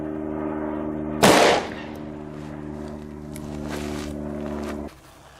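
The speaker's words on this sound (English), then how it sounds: "final shot with the Ruger Alaskan and the buffalo bore 225 grain anti-personnel 45 Colt" A Ruger Alaskan revolver fires a single Buffalo Bore 225-grain .45 Colt anti-personnel round into ballistics gel outdoors: one sharp, loud report with a brief echoing decay over a steady background hum.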